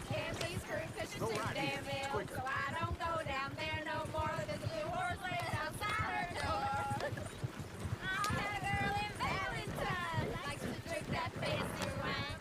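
Horse hooves clip-clop in Red Dead Redemption 2, a faint rhythmic trotting under frequent overlapping game dialogue and shouting voices.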